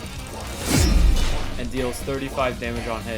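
Mass Infection attack from the 1x1x1x1 killer in the Forsaken video game: a loud, sweeping wind-up whoosh with a deep descending rumble and crash-like body, followed by someone talking over the tail.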